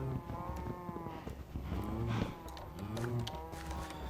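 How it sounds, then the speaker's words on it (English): Cattle lowing in a farming video game, a couple of drawn-out moos carrying over steady game background sound, with no talk in between. "you can hear all my cows over there going crazy"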